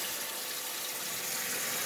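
Water runs steadily from a tap into a sink, heating up for washing the parts of a Westclox Big Ben clock, a continuous, even hiss and splash close by with no voices.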